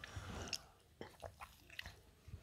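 Someone bites into a soft homemade cottage cheese pancake (syrnik), giving a few quiet, close, moist biting and chewing sounds spaced over a couple of seconds.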